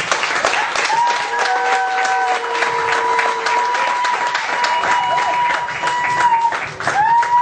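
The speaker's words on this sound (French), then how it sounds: "J'appelle ici Christelle Libaye sous vos applaudissements." Audience applause at a French-language church anniversary gathering, a steady wash of clapping that stays loud for several seconds while sustained tones, likely music, run beneath it.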